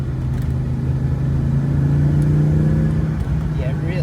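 The 2.2 litre engine of an Audi UR Quattro drones steadily in the cabin, a loud, sustained low hum that holds its pitch with slight rises, heard from inside the moving car, with voices faintly under it.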